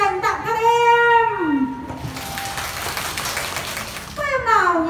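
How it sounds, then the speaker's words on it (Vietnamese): Schoolchildren at a primary school Mid-Autumn festival clap in a short burst of mixed applause, framed on both sides by an adult's sing-song speaking voice. "Một tràng pháo tay dành tặng các em."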